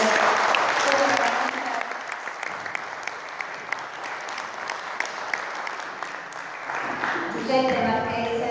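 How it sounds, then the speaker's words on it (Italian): An audience at a Christmas concert in Santa Margherita di Belice applauds, a dense, sustained round of clapping that runs the whole time, dipping slightly midway and rising again at the close. "Vi prego di fare un applauso per questa meravigliosa."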